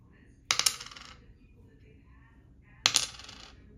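Two household batteries dropped one at a time onto a hard surface, each giving a sharp metallic clatter with a few quick bounces, about two seconds apart and close by, with quiet between them.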